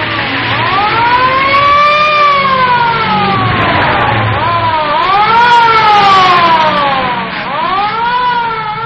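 A wailing police car siren rises and falls in long sweeping cycles over a low motor rumble, loud and close throughout, with no talk.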